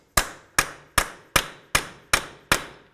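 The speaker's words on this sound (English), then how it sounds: "Use a hammer and punch to break this free." Seven sharp metallic strikes of a hammer on a punch, freeing a 34mm axle nut on a Buick LeSabre, evenly spaced in a steady rhythm, each ringing briefly before the next.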